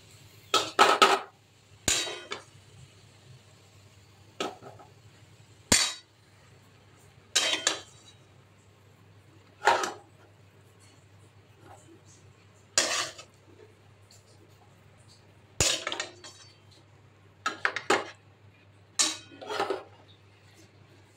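Dishes and cutlery clink in bursts of sharp metallic and ceramic knocks while vegetarian papaya curry is served up, about a dozen close, irregular clatters separated by short quiet gaps, with no talking.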